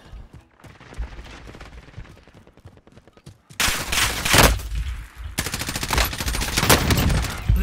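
Rapid gunfire in Call of Duty: Warzone rattles in bursts, quieter shots at first and then loud, sustained close-range automatic fire dominating the later seconds.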